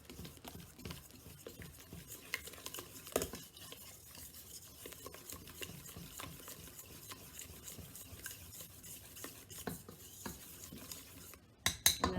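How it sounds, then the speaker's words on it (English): Eggs are stirred in a bowl for challah dough, producing quiet, close, irregular scraping and clinking of a utensil against the bowl throughout, with a few sharper taps near the end. "Stir that up."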